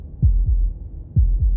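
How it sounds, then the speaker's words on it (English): Heartbeat sound effect in the video game Slay the Princess: deep, muffled low thumps in two lub-dub pairs, steady and close, with no other sound. "That was the sound of a heartbeat"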